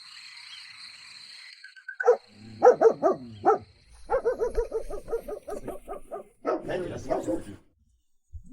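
Four dogs greeting a visitor at a family house, heard as a run of close, loud barks in quick bursts with short pauses, the barking fading out near the end.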